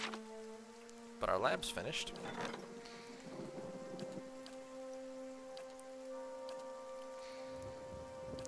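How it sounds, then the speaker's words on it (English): Steady rain patters in the video game Pillars of Eternity, a soft continuous hiss under sustained music tones, with a brief louder rumble near the start and a speaking voice over it. "It's dark and rainy"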